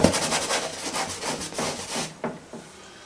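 Paintbrush scrubbing paint onto a canvas in repeated rough, rhythmic strokes, close and fairly loud, tapering off into a couple of separate dabs near the end.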